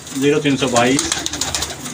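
Pigeons cooing inside a large aviary net, loud close throaty coos in quick overlapping bursts, with a voice talking over them.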